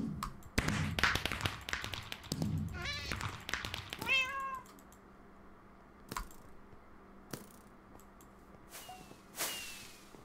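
A Minecraft cat meows repeatedly during a Block Hunt game, a quick run of rising and falling meows over clicks and taps, followed by sparse sharp pops and a whooshing firework sound.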